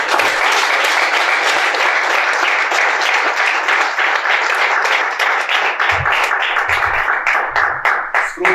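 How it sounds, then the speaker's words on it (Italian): Applause from a town gathering in San Francesco al Campo for Giacomino, many hands clapping loudly and continuously for several seconds before tapering off, with faint voices near the end. "vi chiederei un applauso"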